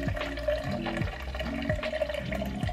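Cold coffee poured into a 30-ounce cup makes a steady close liquid trickle, with faint background sounds in a kitchen.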